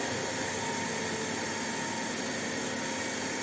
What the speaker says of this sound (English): Once the motor is brought to its rated speed without applying any load